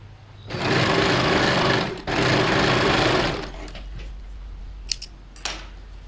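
Sewing machine slowly stitching blouse fabric, a close steady whirring run of about three seconds with a short break in the middle, followed by quiet clicks and handling sounds.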